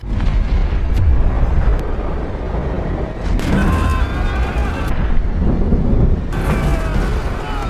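Ship blowing up in the 2025 film Kraken, a loud, dense roaring blast with sustained rumbling debris and crackling bursts that swell in waves, filling the whole passage without speech.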